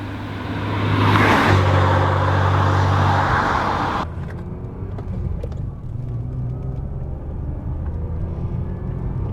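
An Alpina B2.5 engine pulls hard under acceleration, a loud, rising rumbling drone that builds for several seconds and then drops to a quieter steady cabin hum.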